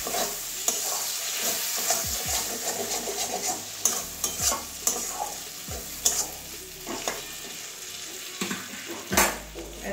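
Chopped medium tomato and onion stirred and frying in a pan for a jackfruit curry with rohu fish head, a steady sizzle under repeated scraping strokes of a spatula against the pan, with occasional louder clanks.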